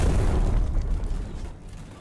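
Explosions from fortifications under attack in the strategy game Diplomacy Is Not An Option, a deep rolling boom that slowly fades over two seconds, loud and low.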